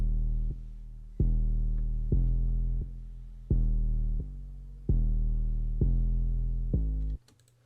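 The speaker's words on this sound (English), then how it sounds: "I have a distortion on the 808" Deep, distorted 808 bass notes hit repeatedly in a steady pattern, each one booming and gritty before decaying, loud and alone, in a trap beat.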